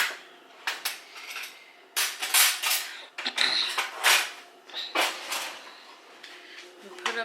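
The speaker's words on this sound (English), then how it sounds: "Right now I'm just putting up dishes." Someone puts away dishes and cutlery in a kitchen. Irregular clinks, clatters and knocks of plates and silverware come in bursts with brief pauses between them, close and fairly loud, and a person speaks softly at times.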